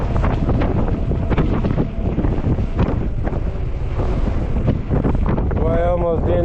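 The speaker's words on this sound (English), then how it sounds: "Oh, there's that wind. Oh, it's wicked wind." Strong gusty wind buffets the microphone during a fat tire e-bike ride in 30+ mph gusts, a loud continuous rumbling roar that surges unevenly, with a brief voice near the end.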